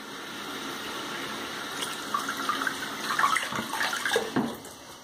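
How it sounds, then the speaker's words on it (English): Steady running water from a tap as a safety razor is given a quick, light rinse during a shave, with splashing and clinks growing louder toward the end. "Very quick, light rinse."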